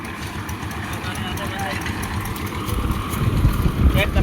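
A tractor engine idles in an open farm field with irrigated trees, giving a steady close rumbling drone that grows slightly louder and rougher toward the end, with voices heard over it.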